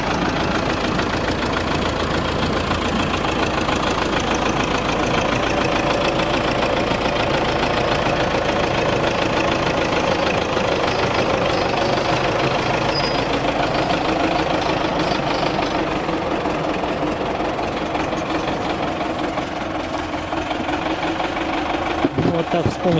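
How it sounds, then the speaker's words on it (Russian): A tractor engine idles steadily while firewood is loaded in a village, a continuous low rumble running through the whole stretch, with people talking over it. "С помощью трактора, конечно, намного удобнее и быстрее."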